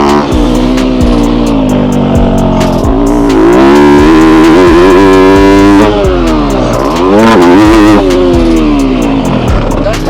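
A motocross motorcycle on a new Kimball County track, held in second gear, accelerating hard out of a corner and over a jump; the engine screams loud and close, rising and falling in pitch, with no speech.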